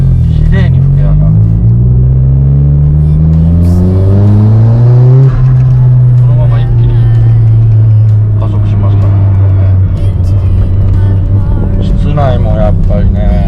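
A Nissan fitted with Nismo parts revs cleanly while being driven, its engine note sweeping up in pitch, settling into a steady drone, then climbing again, loud and close under intermittent talk.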